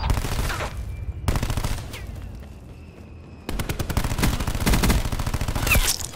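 Rapid automatic gunfire in Black Ops 4 comes in loud, close bursts of steady shots, with a quieter gap in the middle before a long, sustained burst.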